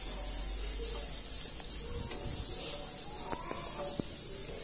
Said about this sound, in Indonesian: Nah, kita mulai tumis bumbu yang sudah dihaluskan tadi.